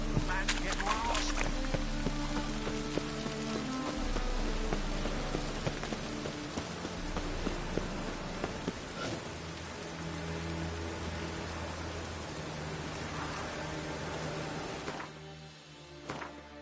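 Steady rain falling in The Witcher 3: Wild Hunt, a constant hiss of drops on surfaces that holds for the whole stretch, with game dialogue and music faint underneath.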